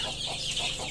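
A well-grown rooster, under two months old and raised for Eid, gives a brief low cluck close by among other poultry, with no talking.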